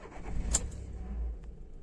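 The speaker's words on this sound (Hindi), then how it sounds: "गाड़ी स्टार्ट हो चुकी है" A 2013 Volkswagen Polo three-cylinder engine cranks and catches with a brief sharp burst, then settles into a low, steady idle rumble close by.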